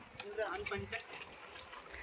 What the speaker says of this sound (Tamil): பைப் ஆன் பண்ணுறா.